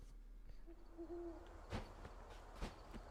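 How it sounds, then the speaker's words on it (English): An owl hoots in the Castlevania video game, a soft, tonal call heard over a quiet low hum, followed by a few sharp thuds, with no talking. "Okay, owl somewhere."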